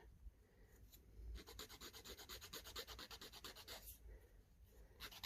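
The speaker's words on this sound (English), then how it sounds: "And then a bit of a sand with a nail file or an emery board." Rapid back-and-forth rasping of a nail file on cured resin, a steady rhythmic scratching that runs for several seconds, close and fairly quiet.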